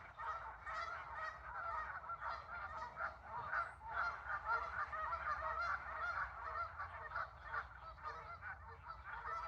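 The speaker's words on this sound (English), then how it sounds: "I can hear the ducks" A flock of geese or ducks honks outdoors, a dense, continuous chorus of overlapping nasal calls at moderate distance.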